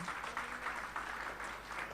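A church congregation applauds during a Sunday worship service, a steady wash of many hands clapping for a couple of seconds, moderately distant with room echo.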